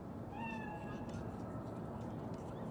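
A cat meows in a video game set in Night City, a few rising, drawn-out calls over steady ambient background hum.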